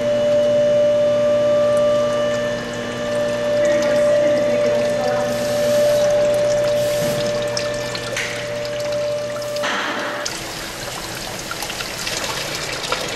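Coolant drains steadily from the radiator drain plug of a supercharged 3.7L Mustang, a continuous close trickle and splash that runs with some shifts in tone, alone with no talking.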